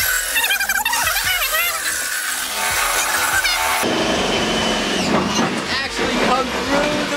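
Power tool cutting through a car bonnet during a bonnet pin install, a loud continuous whining buzz that shifts pitch and roughens midway, with voices talking over it.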